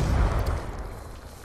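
Grenade blast in Call of Duty: Black Ops 2, one close, loud, rumbling explosion that swells at the start and fades into a long low tail, with no voices.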